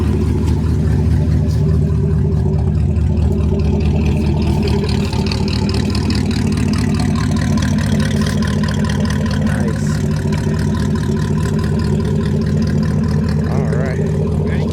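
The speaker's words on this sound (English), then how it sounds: "I got the Richard Petty exhaust" A loud, rumbling old rat rod car engine idling and revving with a throaty Richard Petty exhaust, continuous and close, with a voice talking over it.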